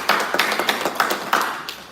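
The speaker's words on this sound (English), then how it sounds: "Give it a huge round of applause." A short burst of applause from a small group at a new member orientation, brisk uneven claps close by with no voices.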